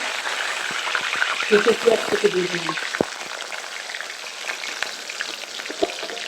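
Bay leaves sizzle and crackle in olive oil in a pan, a steady close frying hiss with a few sharp pops and stirring clatter, as someone talks over it.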